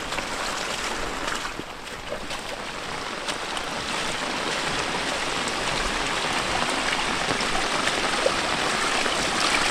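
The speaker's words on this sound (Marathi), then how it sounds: "पूर्ण भिजवला पावसाने." Heavy monsoon rain pours down steadily in a Konkan village, a dense, even hiss of water that holds loud and unbroken throughout and swells slightly toward the end.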